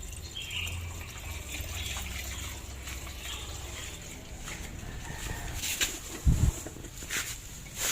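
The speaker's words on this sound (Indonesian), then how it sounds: "kita siram solar supaya bersih, supaya terkuras keluar air dan oli yang kotor ya, yang mengendap di karter begitu" Diesel fuel is poured into the crankcase of a flooded engine to flush out water and dirty oil, giving a steady trickling, splashing liquid sound with a few louder gushes and clunks near the end.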